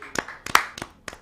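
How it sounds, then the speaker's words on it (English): A few separate, sharp hand claps spaced out over about a second, close and distinct, from a sports talk show setting. "I want to give you a round of applause."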